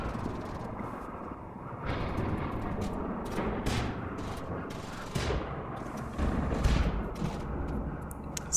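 Dense gunfire and explosions from a raid in the video game RimWorld, with bursts of shots and grenade blasts rolling continuously at a steady loud level, no talking.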